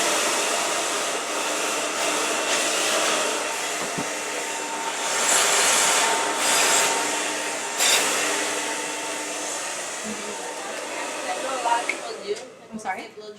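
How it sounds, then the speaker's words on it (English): A hair dryer blow-dries a section of hair worked with a boar bristle brush, giving a steady loud whooshing roar that holds almost the whole time and then tapers off near the end. "Blow dry a section down here"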